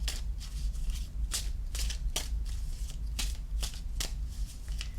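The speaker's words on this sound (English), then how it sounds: "Good shuffle here." Tarot cards are riffled and shuffled in quick repeated bursts close to the microphone, a crisp fluttering rustle with brief pauses between.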